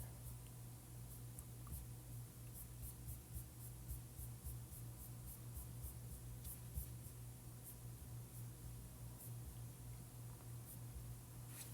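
Faint, steady scratching of writing on a board or paper during a math lecture, soft and continuous with light strokes under a low background hum, no one talking.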